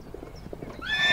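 A loose, saddled horse clip-clops on hooves with a steady rhythm, then lets out a loud, rising whinny near the end, close and clear with no talking.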